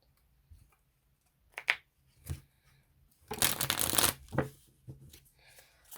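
Tarot cards shuffled by hand close up, a few short riffles and taps followed by a longer, louder burst of shuffling and then softer flicks, quiet between strokes.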